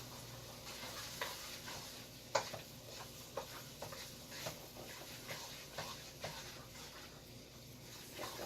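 A soy sauce mixture is stirred in a bowl, producing faint, repeated soft scraping strokes with light clicks against a low background hiss.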